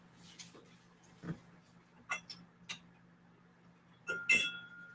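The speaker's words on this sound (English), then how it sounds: "Got to grab another glass." A whiskey glass is picked up and knocks lightly against other glassware, a few faint clinks then a brighter ringing chink near the end, in a quiet room.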